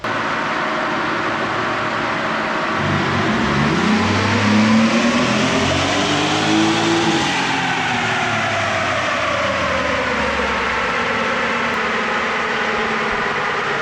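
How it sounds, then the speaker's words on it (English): A Chevy Colorado pickup engine on a dyno winds up through a long, loud rev, its pitch climbing steadily, then falls back as it eases off, with a continuous mechanical roar. "He is putting the truck up on the dyno now."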